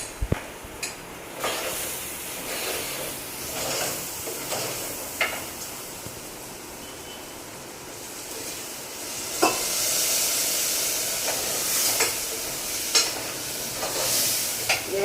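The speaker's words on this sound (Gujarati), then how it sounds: "વઘાર ફેંકો ધીમે ધીમે એ પાકે" Coriander and cumin seeds sizzle and crackle in hot oil for a tempering, a steady hiss broken by occasional clinks of a spoon against the pan, close by with no speech.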